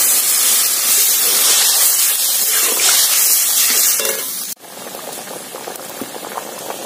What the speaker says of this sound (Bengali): ঝোলে জাল উঠে গেছে।